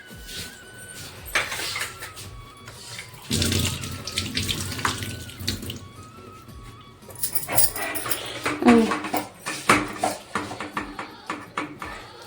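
Water runs from a kitchen tap during washing up, with splashing and a few clinks of dishes, close by, while a dog barks and people talk briefly.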